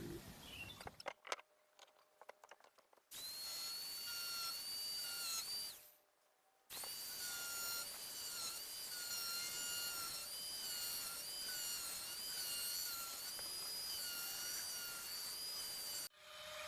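A power tool cutting a Nissan 300ZX tail light lens for a custom clear conversion, a close, loud high-pitched whine that holds steady for several seconds, stops briefly, then runs again for about ten seconds.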